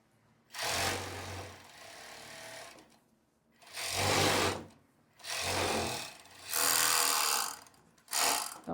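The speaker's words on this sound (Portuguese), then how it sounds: "vou passar essa costura do lado e do outro" A sewing machine runs in four or five bursts of stitching along a long casual skirt seam, each burst a steady rattling whir with brief pauses between, close and fairly quiet.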